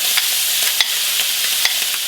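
Kimchi sautéing in a pan with red chili flakes and ham, giving a steady bright sizzle with a few sharp clicks of stirring spaced through it, close and fairly loud, with no voices.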